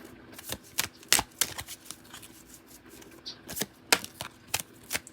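Tarot cards are shuffled close by, with quick papery riffles and snaps in irregular bursts, some sharper than others, heard alone without voices.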